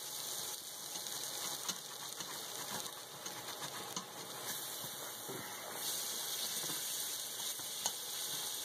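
Melted butter and cheese sauce for a budget mac and cheese sizzle steadily in a pan while being stirred, a continuous quiet hiss with faint scraping ticks throughout.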